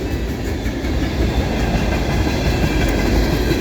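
A Chicago and North Western locomotive hauls a freight train past at steady close range, a continuous loud low rumble of wheels and rolling cars with faint clickety-clack throughout and no talking.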